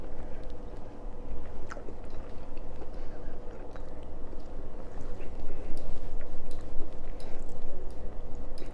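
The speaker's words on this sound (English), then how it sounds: "Let's bite into this thing." Someone bites into and chews a crispy, crunchy fried chicken sandwich, a close and continuous crackling crunch lasting several seconds.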